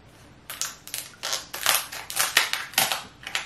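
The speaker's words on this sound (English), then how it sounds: "I'm gonna cut this lobster." Shears or a knife cracking through the shell of a whole boiled lobster with eggs, a series of sharp, close crunching snips in an irregular rhythm, with no talk.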